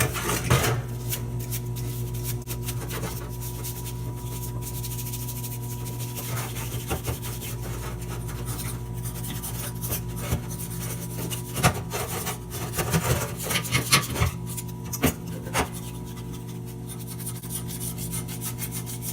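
A metal oil pan from an LS engine swap gets scrubbed clean: steady, close rasping and rubbing strokes with scattered clanks and scrapes of metal, continuing for about twenty seconds with no talk.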